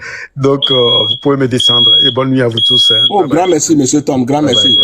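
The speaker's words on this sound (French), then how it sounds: "je crois que c'est une alarme seulement qui s'est déclenchée." A smoke alarm shrills in repeated high electronic beeps while someone speaks French continuously over it at close range.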